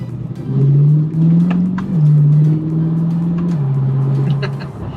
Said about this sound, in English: I have the exhaust that you can switch from quiet to loud